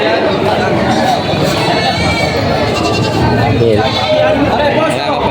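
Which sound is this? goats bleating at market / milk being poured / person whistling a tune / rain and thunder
goats bleating at market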